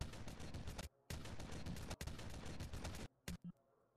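Sustained full-auto gunfire from a weapon in VRChat, loud and continuous in long rapid bursts with brief gaps, ending in a few short separate shots.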